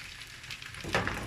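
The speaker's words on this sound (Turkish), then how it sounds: "Kısık ateşe alırsak orta ateşte daha güzel kızarır." Zucchini and vegetables fry in a pan over medium heat, giving a soft, steady sizzle. A brief louder crackle swells near the end, with no talk.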